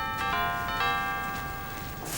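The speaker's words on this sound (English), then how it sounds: "I meant to take that bell off last night." A doorbell-type bell gives two or three bright ringing strikes near the start, its tone lingering and fading against steady background noise, with no talk over it.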